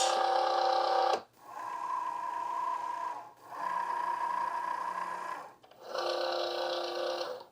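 A Cricut cutting machine loads a cardstock card mat under its clamp and measures it, giving a steady whirring motor hum that runs in three long passes separated by brief pauses, close and moderately loud, with no talk.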